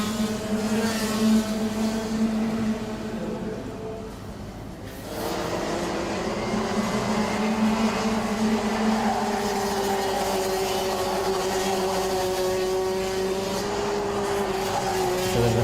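Senior Max racing karts at speed on the final lap of an RMC Thailand 2025 Round 1 final, their engines droning steadily with rising and falling pitch as they push through corners, loud and continuous throughout.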